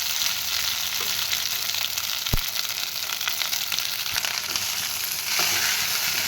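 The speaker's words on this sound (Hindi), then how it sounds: "सबू जीरा भल भाव में फुटी गलानी" Cumin seeds sizzle and fry in hot oil in a pan for jeera rice, a dense continuous hiss broken by a few sharp pops and light stirring scrapes, close and unaccompanied by speech.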